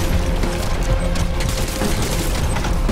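Explosions and rapid gunfire rattle through a battle in the shooter game Crysis 3, a dense, continuous barrage of cracks and booms at steady high volume with no pauses.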